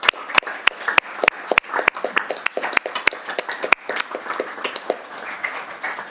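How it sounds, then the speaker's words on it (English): Hands clapping in a council meeting chamber in Mandurah to honor a guest, starting as a few sharp, loud claps and quickly swelling into dense, steady applause from the gathered room. "I would love to give you a massive round of applause from all of us"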